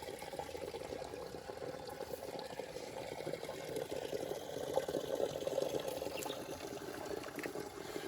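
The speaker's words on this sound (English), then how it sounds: "there's a lot of water coming here" Water from a spring flows and trickles steadily nearby among blackberry bushes, a continuous soft babbling wash that never lets up, with no one speaking.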